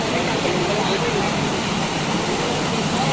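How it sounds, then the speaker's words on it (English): Waterfall in Mussoorie on a sunny day, a steady broadband rush of falling water heard up close, continuous and fairly loud without a break. "And here is the waterfall"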